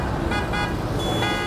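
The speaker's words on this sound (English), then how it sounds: "It's like a big traffic jam." A dense traffic jam sound effect, with continuous broadband road noise and several overlapping car horn toots sounding loudly at once.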